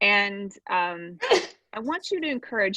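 A single sharp sneeze bursts out between stretches of a presenter's talk during a storytelling class session.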